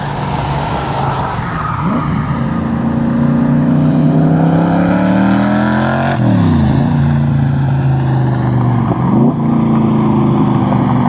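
A loud 1965 Backdraft Cobra sports car engine roars past at close range, echoing off a building nearby, its pitch rising and then dropping as it goes by, with a steady rumble throughout.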